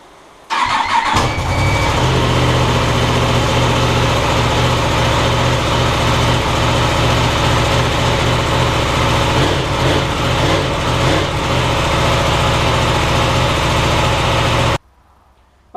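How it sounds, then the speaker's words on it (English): A 2016 Yamaha R1M sport motorcycle fitted with an Arrow Pro race titanium exhaust fires up from cold, then settles into a steady, loud, raspy idle close by for about fourteen seconds before cutting off abruptly. "This is on a cold engine, so I'm just going to start her up, let her warm up"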